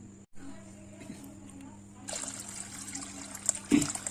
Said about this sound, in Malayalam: നമുക്ക് കുറച്ചും കൂടെ വെള്ളം ഒഴിക്കാം.